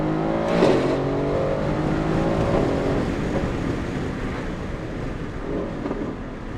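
A Mercedes-AMG GT S with a Valvetronic Designs exhaust and free-flow downpipes gives one sharp rev, then settles into a deep, rumbling drone under steady wind buffeting on the microphone.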